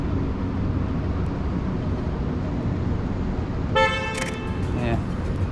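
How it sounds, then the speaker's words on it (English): A short car horn honking on a city street, blaring out over steady traffic noise near the end as people talk nearby. "these are the people who were honking their horn every time"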